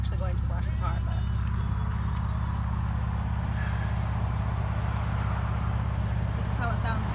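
A car engine drones steadily with road noise throughout, while a voice talks over it.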